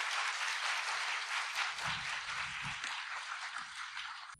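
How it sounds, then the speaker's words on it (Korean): An audience at a political workshop applauds to welcome a speaker, a soft, continuous patter of many hands heard from some distance, with faint low murmurs underneath. "큰 박수로 연사를 맞아주십시오."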